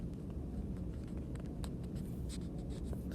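Steady scratchy strokes of writing on a board during a geometry lesson on quadrilaterals, continuous and close over the full stretch, with no talking.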